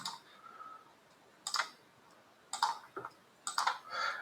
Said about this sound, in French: On va cliquer à chaque coin de parcelle